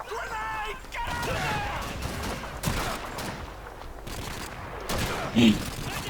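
Gunfire in the video game Call of Duty 2, dense bursts of rifle and machine-gun shots with a crashing impact near the end, sustained and loud, with a voice talking over it.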